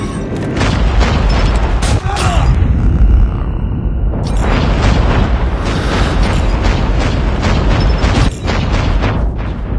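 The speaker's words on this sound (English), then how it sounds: "Friendly airstrike incoming." Friendly airstrike explosions in a Call of Duty multiplayer match rumble continuously as heavy, booming blasts, loud and close, with overlapping game noise throughout.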